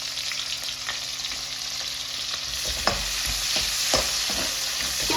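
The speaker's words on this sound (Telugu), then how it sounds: "2 onions వేసేసుకుంటున్నాను నూనెలో." Two onions frying in hot oil in a pan for methi chicken: a continuous close sizzle with spatula stirs and scrapes clicking through it, growing a little louder toward the end.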